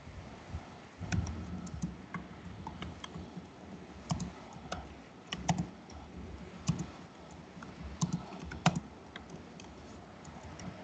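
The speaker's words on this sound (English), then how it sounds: "your typing strokes are audible." Steady, close computer keyboard typing runs throughout, with irregular clicking keystrokes and a few louder taps over faint room noise.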